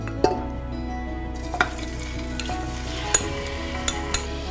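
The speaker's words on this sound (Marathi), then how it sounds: "आता ह्यात आपण 500 ग्रॅम चिकन टाकणार आहोत।" Chicken fries with cumin in a little oil in a pressure cooker, a continuous sizzle under a low steady hum. Scattered sharp clicks and pops come from stirring.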